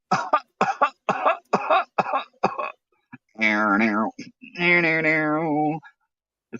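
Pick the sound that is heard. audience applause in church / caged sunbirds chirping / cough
cough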